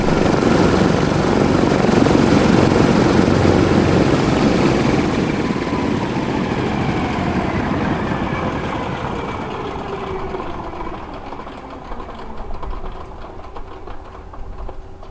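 Douglas DC-6 piston engines on a ground run during annual inspection, a loud broad drone that slowly winds down and fades as an engine shuts down, leaving a quieter rumble with faint tonal whine.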